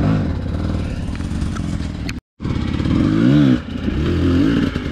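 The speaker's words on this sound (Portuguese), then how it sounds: "O cara pediu pra andar na minha moto pra testar" A loud motorcycle engine on a hard off-road trail in Arapongas, Paraná, Brazil revs up and down nearby, rising in pitch twice, with a brief silent break in the middle.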